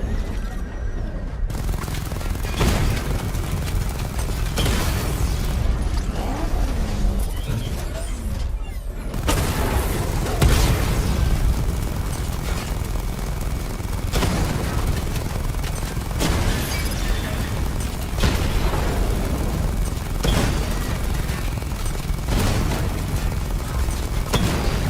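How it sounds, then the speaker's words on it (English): A missile barrage fired in Batman Arkham Knight, a dense run of booming blasts and mechanical clatter rolling on for the whole stretch, loud and layered with a brief opening of quieter machinery. "Charge the missile barrage to level 2 to destroy up to 4 targets at once."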